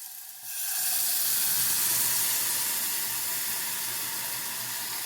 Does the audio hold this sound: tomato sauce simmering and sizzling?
yes